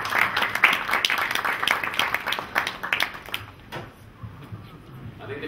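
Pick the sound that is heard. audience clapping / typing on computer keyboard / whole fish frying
audience clapping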